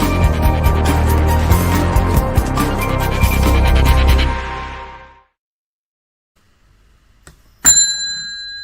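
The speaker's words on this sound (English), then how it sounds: "It's an actual bell. This is not a sound effect." An actual hand-rung bell opens a history happy hour show, striking once loudly and ringing out clearly after a stretch of near silence that follows fading music.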